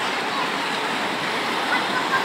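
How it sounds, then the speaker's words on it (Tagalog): A powerful river current roars at Majayjay, Laguna, as a dense, unbroken wash of rushing water, close and loud, with faint voices underneath. "Grabe lakas ng agos dito guys."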